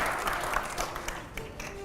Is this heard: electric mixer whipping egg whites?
no